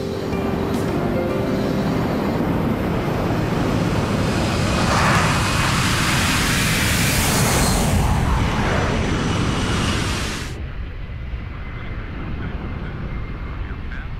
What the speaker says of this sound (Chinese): 快起飞了，要起飞了。